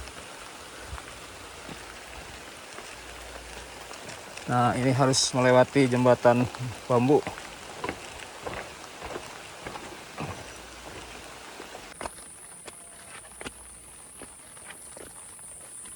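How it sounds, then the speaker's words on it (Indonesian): Rain falling in a remote village, a soft steady patter throughout with footsteps and some knocking sounds, a person talking briefly, and a high whine near the end. "Sekarang alhamdulillah turun hujan."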